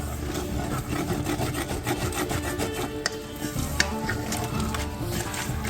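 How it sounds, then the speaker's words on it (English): A spoon scrapes browned bits off the bottom of a pot as Guinness deglazes it for a lamb stew; continuous rough rubbing and scraping with a faint sizzle underneath and a couple of sharper knocks. "You want to start scraping up the bottom bits."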